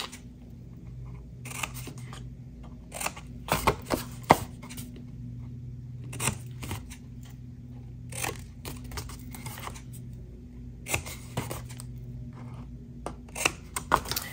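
Craft pieces for a Halloween project are cut at a slight angle, making several short snipping and crunching cuts close by. The cuts come irregularly over a quiet low hum.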